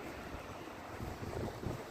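A strong blizzard wind blows between apartment buildings in Petrozavodsk, a rough, gusty roar with microphone buffeting that swells and fades over a couple of seconds.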